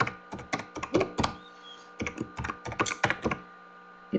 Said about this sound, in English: I will just type that in here